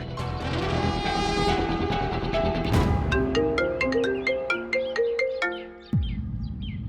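A phone rings in a melodic electronic ringtone while a call is placed, its stepped tones repeating clearly and fairly loud before cutting off near the end, with no talking over it.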